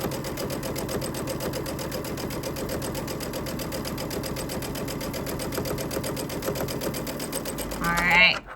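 A sewing machine fitted with a 1/4 inch seam allowance foot stitches at a fast, steady, even pace. The rhythmic mechanical chatter runs close and continuous, with a brief louder burst near the end.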